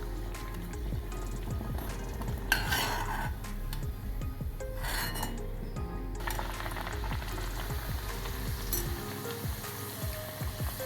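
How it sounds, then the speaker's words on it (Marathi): Puris deep fry in hot oil with a soft, continuous bubbling sizzle, joined by occasional scraping and clinking of a utensil in the pan. "अशा पुऱ्या छान तळून घ्यायच्या."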